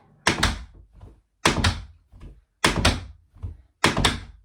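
Tap shoe flap strikes on a floor, four clear pairs of sharp slaps in a steady rhythm, each followed by lighter softer taps, close and loud with silence between.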